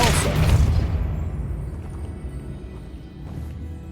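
Confringo and Depulso spell blasts in Hogwarts Legacy: a loud burst right at the start that trails off into a rumbling decay, followed by quieter faint sounds.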